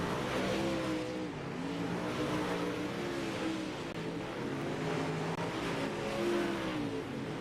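Race cars circle a speedway in the iRacing sim, a continuous layered engine drone from several cars with gentle rises and falls, steady and moderately loud throughout.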